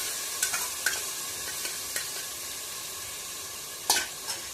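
A spoon stirs a soaked dabeli spice mix frying in oil, so scattered scraping clicks and taps break through a soft, continuous sizzle.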